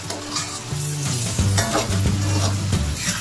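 Tomatoes, two cups, sizzling loudly in hot oil in a pan over high heat with a stir, a steady dense frying hiss with pan scraping and stirring clatter throughout, no talking.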